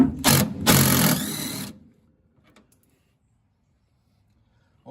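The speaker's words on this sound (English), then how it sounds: "We're going to take these two bolts out now and then two on the other side." Half-inch steering rack bolts being worked loose on an MGB, a close, loud burst of power-tool whirring in two bursts lasting under two seconds, followed by near silence and faint small clicks.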